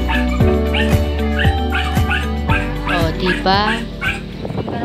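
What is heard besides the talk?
hungry pet dogs barking and whimpering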